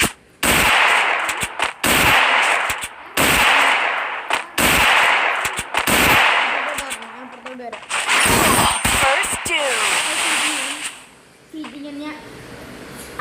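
Gunfire in the video game Free Fire during a 1v1 match, loud repeated bursts of rapid shots with short pauses between them, close and harsh, with voices talking over it.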